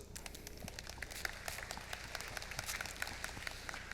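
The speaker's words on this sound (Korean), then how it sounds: "정답입니다. 박수." Applause from an audience at a public science lecture, a steady wash of many hands clapping at a moderate distance, even and sustained with no talk over it.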